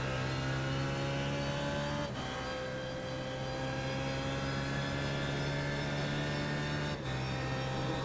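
Race cars lapping at the 24 Hours of Spa-Francorchamps, a continuous loud engine drone with steady harmonic whine and slight pitch shifts as cars pass, no voices.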